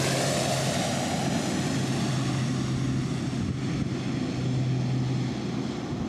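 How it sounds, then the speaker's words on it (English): Airliners landing at LPIA airport, a steady distant jet rumble and hum with low engine drones fading in and out, continuous and fairly faint, no talk. "planes began touching down at LPIA around 12:30 this afternoon"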